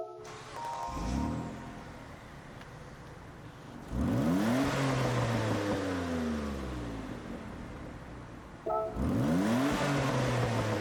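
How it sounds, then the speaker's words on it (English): Engine startup of a 1991 Mitsubishi GTO Twin Turbo in Gran Turismo 7: starter whir, the engine catches, and three rising revs swell and fall over a steady idle, each clear and loud. "we'll listen to the startup sound"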